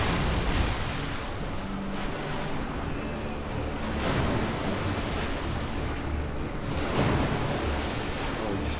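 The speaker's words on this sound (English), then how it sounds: "Oh, you splashed me, I'm so scared." Water splashing in the Elden Ring video game, a steady wash of broadband rushing noise with a few surging swells, continuous and fairly loud throughout.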